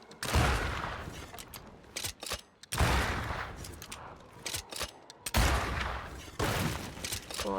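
Gunfire in Banishers: Ghosts of New Eden, three loud bursts of rapid shots separated by short pauses, with a few single cracks in between, close and punchy.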